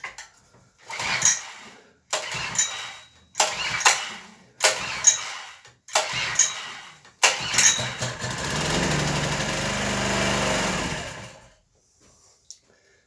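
A Briggs & Stratton engine with a carburetor problem is cranked over six times in quick rhythmic pulls. It then catches and runs at a steady rough idle for a few seconds before cutting out.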